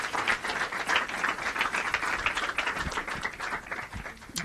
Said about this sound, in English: please keep the applause going for Jordan Castle